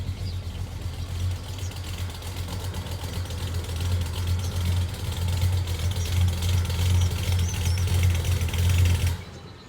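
Car engine idling steadily with a low, constant rumble and a faint ticking, close by and continuous, growing slightly louder before cutting off at the end.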